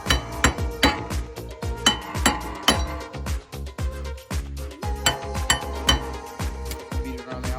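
A hammer strikes the worn wheel hub of a 6th-generation Honda Accord, giving a rapid, uneven run of sharp, ringing metallic blows close to the microphone.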